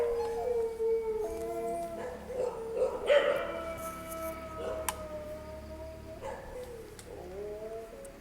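A dog howls in long, wavering, drawn-out cries that rise and fall over several seconds, fairly close, with quiet night ambience around it.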